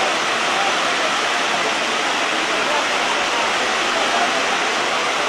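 Heavy rain pours steadily over a waterlogged street in Sylhet, where runoff pools and runs. The rush of rain and water is a dense, even hiss that stays loud and constant throughout.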